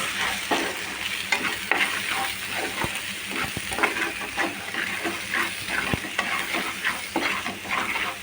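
Chira meenu, tiny fish, stirred with salt in a hot pan: continuous loud sizzling and frying hiss with repeated scraping strokes of a spoon against the pan.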